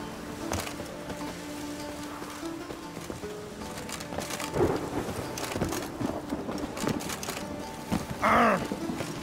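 Steady rainfall with low thunder rumbles rolling through in The Witcher 3: Wild Hunt, a few sharper crackles, and a brief bright whine near the end.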